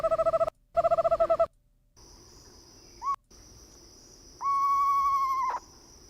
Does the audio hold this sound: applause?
no